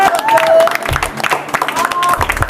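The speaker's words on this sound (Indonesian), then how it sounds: "Aplaus untuk kelompok 2." A classroom group claps for a student team after a water-purification science practical. Scattered hand claps build into brief applause alongside voices and cheering.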